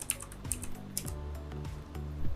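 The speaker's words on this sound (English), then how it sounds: "press the Window R key and type in" Clicking keystrokes on a Windows laptop computer keyboard, a quick irregular run of taps close up and fairly quiet, with no talking.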